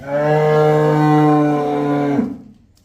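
A cow on a dairy farm lets out one long, loud, close moo that holds steady for about two seconds before breaking off and fading into quiet.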